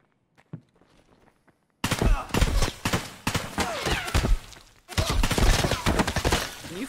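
Mosin rifle fire and other gunfire on Shoreline in Escape From Tarkov, beginning after a quiet stretch with faint footsteps, then a dense burst of loud, sharp shots and impacts in rapid succession, with a short pause midway.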